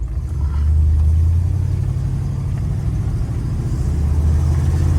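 A 1983 Oldsmobile Hurst engine revving under light throttle, a close low rumbling drone that rises at the start then holds steady with a throbbing mid-range hum inside the car.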